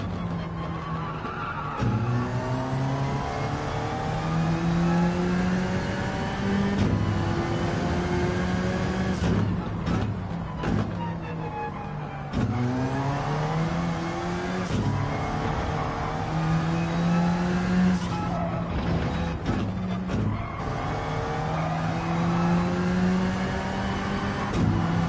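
Gr3 race cars in a Gran Turismo daily race at Grand Valley Reverse roar steadily through about twenty-five seconds, engines climbing in pitch through repeated upshifts and dropping sharply on downshifts, loud and close with no talking.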